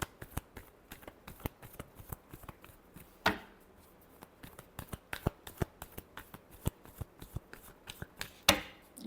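Tarot cards being shuffled close up, a quick run of crisp riffling snaps and slides with a few louder flicks, steady and unhurried, with no talking.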